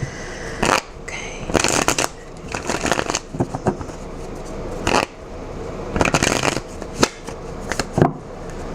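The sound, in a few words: shuffling tarot cards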